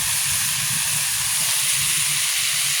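Potatoes frying in oil for aloo bhaji, a loud, continuous, close sizzling hiss that holds steady throughout with no talking.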